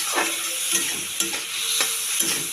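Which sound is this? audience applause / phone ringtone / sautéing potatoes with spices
sautéing potatoes with spices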